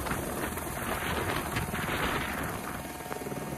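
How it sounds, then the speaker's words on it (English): Wind blowing across a snowy hill at a winter heli-logging site, a loud, steady rushing roar buffeting the microphone for a few seconds without a break. "The wind is on."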